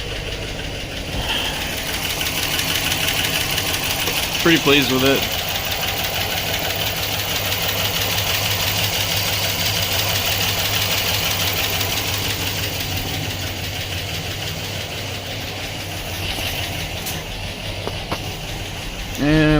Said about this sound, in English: first fire up with the truck Norris Cam